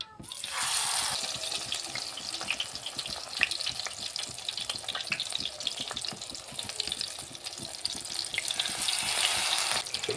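Pumpkin flower fritters dipped in batter fry in hot oil over a high flame, giving a loud, continuous bubbling sizzle close by with faint clinks and splashes throughout.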